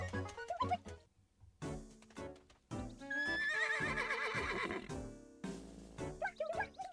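Horse neighing in the video game Miitopia: several loud, wavering whinnies mixed with clip-clop hoof sounds and short bursts, close and prominent.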